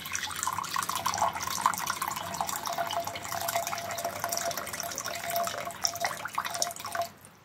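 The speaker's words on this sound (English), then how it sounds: "We're gonna be using the warm water now." Warm water pours steadily from a tap into a container for bun dough, a bright splashing stream that runs continuously and cuts off at the end.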